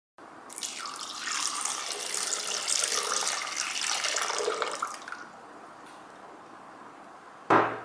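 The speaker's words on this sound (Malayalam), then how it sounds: "ഒരു മിക്സിയുടെ ജാറെടുത്ത് ആദ്യം ഞാൻ അതിലേക്ക് 1 ഗ്ലാസ് വെള്ളം ഒഴിച്ചു" A glass of water poured into a mixer jar, a rushing, splashing stream for about five seconds that then stops, followed by a sharp clack near the end.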